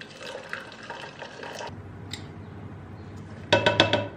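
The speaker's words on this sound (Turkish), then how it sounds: "Bunu sıcak suyla yapmak önemli çünkü kahveler güzel erimiyor sonra ve şeker." Hot water poured into a cup to dissolve instant coffee and sugar, a close, steady liquid pour and splash that stops partway, then resumes with a brighter, louder gush near the end.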